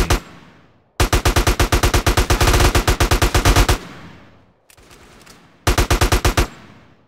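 Automatic gunfire in Grand Theft Auto, loud and close, in a long rapid burst of shots, a short pause, then another quick burst; no one talks.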